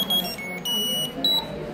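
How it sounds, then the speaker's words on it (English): A small GPS tracker clipped to a school bag emits short, high electronic beeps, three or so in a row, each lasting a fraction of a second, heard close up over faint room noise. "The tracker is beeping."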